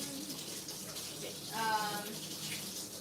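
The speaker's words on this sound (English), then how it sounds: "I'm trying to wait for the water to get warm because butter does not come off with cold water." Kitchen tap water running into a sink while butter is being washed off after making apple cinnamon muffins, a steady soft rushing flow, moderately close, with a faint voice in the background.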